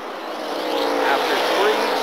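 A stock car on the 2-mile Michigan oval, running a 400-mile race at over 160 mph, roars steadily with engine noise that builds through the pass, heard loud and close with no talking.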